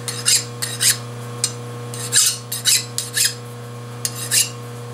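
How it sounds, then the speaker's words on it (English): Hand file rasping burrs off the edges of a freshly milled metal part for a carriage stop clamp, a series of short scraping strokes repeating about every half second over a steady low machine hum. "No match for a sharp file though."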